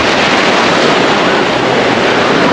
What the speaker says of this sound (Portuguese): mas já tem bastante onda aqui na água